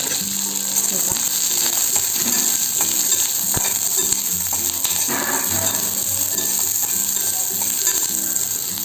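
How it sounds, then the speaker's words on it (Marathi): Prawns sizzle in hot oil in a pan for a Maharashtrian kolambi rassa, a steady close frying hiss broken by stirring scrapes and light clinks of a utensil. "फक्त तेलात शेकायला पाहिजे त्याचा वास जायला"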